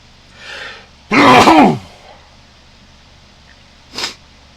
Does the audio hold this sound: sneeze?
yes